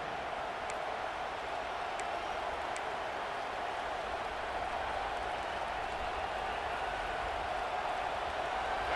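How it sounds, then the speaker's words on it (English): Stadium crowd noise in College Football 26, a dense, steady roar of a big crowd on third down, loud and continuous with no break throughout. "This dog crowd is off the leash, and they are coming after them, bringing noise on 3rd down."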